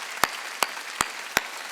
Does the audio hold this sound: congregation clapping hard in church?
yes